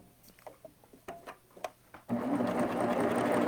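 A Baby Lock Applaud cover stitch sewing machine stitching in short separate bursts, then running steadily and loudly at close range for the final second and a half.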